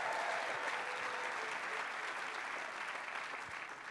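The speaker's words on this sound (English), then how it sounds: "Please give them all a big round of applause." Sustained applause from an audience at a literary event, a thick, even wash of clapping that eases off slightly by the end.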